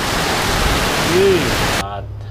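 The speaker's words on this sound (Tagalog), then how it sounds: "Ang lakas po ng ulan dito." Heavy rain pours steadily in Bugallon, Pangasinan as a dense, loud hiss with no gaps, then cuts off abruptly near the end.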